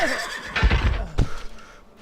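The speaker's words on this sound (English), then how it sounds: "These are just horses" Horses neigh in Civilization III, with two loud whinnies close together and a quieter tail fading out. No voices are heard.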